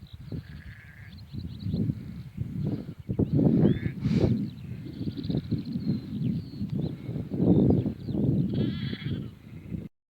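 Sheep bleat repeatedly on open moorland, several wavering calls overlapping against a low outdoor rumble, moderately close.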